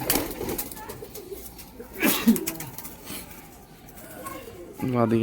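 Kalanka pigeons at a home loft give soft, low coos, with a fuller cooing call rising near the end, under steady talk from a man and some rustle and wing movement.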